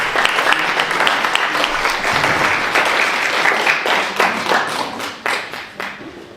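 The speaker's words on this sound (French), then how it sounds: "ils nous conduisent tellement bien qu'on va les applaudir" A church congregation at a weekend worship gathering applauds the worship team. Loud, full clapping from a large crowd holds steady, then thins into scattered distinct claps as it fades out.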